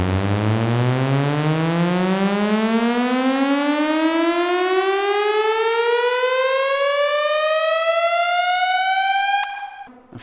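Synthesizer EDM rise with reverb: a dense, bright buzzing tone sweeping steadily upward in pitch for about nine seconds at constant loudness, then cutting off abruptly with a short reverb tail.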